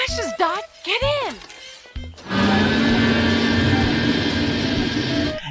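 A spaceship-car flies through space in a film scene, with sweeping electronic whoops and chirps giving way to a loud, steady roaring engine drone that holds through the rest, with speech heard over the opening.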